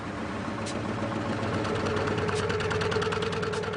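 A Kamaz truck diesel engine idles steadily on a mountain road in Tajikistan, a close, even mid-to-low rumble with a faint rhythmic knock throughout and no talking.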